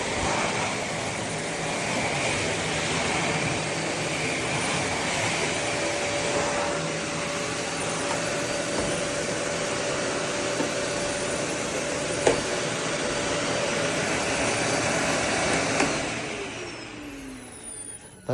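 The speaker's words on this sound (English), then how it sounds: "That's all the way on high, and it's nowhere near as noisy as my old vacuum." A Eureka WhirlWind bagless canister vacuum cleaner with a 2.5 L bin runs on its high setting, giving a steady, loud whirring drone that holds for most of the clip before being switched off and winding down near the end.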